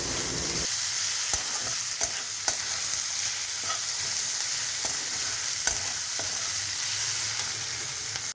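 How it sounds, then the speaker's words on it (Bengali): Onions fry on medium heat in a pan, giving a steady close sizzle, while a utensil scrapes and taps against the pan now and then to stir them; no one speaks. "তাই মিডিয়ামে রেখেই পেঁয়াজটাকে ভাজতে হবে"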